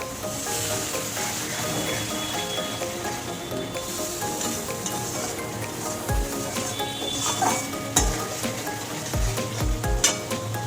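Spice paste for a Bengali prawn malai curry sizzles steadily in a pan, with occasional scraping stirs and low knocks from the spoon, close and continuous with no talk.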